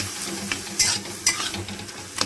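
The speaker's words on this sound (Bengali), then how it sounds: "কচুর শাকটার মধ্যে এখন নাড়াচাড়া করব" Spice paste being stirred into taro leaf greens in a pan, with soft scraping and a gentle sizzle, plus a few louder clinks of the spoon against the pan.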